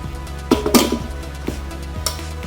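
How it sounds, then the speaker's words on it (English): An aluminum bread maker pan being handled, giving a few sharp metallic clinks and knocks at irregular intervals, close and fairly loud against a quiet room. "We have this aluminum pan"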